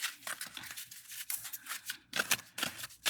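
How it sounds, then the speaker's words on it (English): Brisk, papery riffling of cards being shuffled, several quick bursts with short pauses between them, close by and with no voices. "If I shuffle messily, it'll fall out better."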